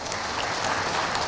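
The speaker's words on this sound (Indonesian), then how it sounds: "Tepuk tangan buat Indonesia kita." Applause fills a comedy show audience, dense and continuous clapping from a crowd with no speech over it.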